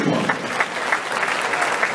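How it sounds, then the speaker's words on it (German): Spectators at an amateur boxing event applaud the two boxers after a bout, a dense, continuous burst of clapping from a crowd, loud and close. "Euer Applaus für Christian und Simon."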